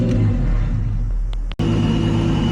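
A Toyota Cressida engine roars loudly at high revs on a dyno, holding a steady heavy drone with a brief cut in the middle before it picks back up, close and with no talk.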